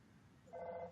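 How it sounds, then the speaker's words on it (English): A brief, faint electronic telephone ring from the Earthbound video game sounds as a short tonal trill near the end, alone against quiet background. "And then suddenly, you got a phone call"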